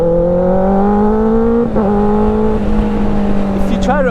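Motorcycle engine held at high RPM with a steady rising whine, a brief dip as the gear shifts up, then the note settles and climbs again, loud and close.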